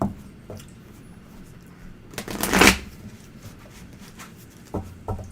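Tarot cards are shuffled for a reading in a quick riffling burst near the middle, with a few soft taps and handling noises before and after it in a quiet room.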